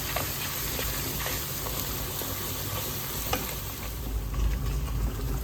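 Curry leaves sautéing in hot oil in a pan, a constant close crackling sizzle with occasional stirring scrapes, fairly loud and steady throughout without any speech.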